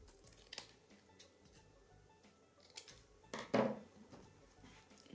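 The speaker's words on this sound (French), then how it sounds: "Je vais couper l'étiquette en deux." A single quick snip cuts a paper label in two during scrapbooking, standing out near the end against faint rustling and small handling noises at a table.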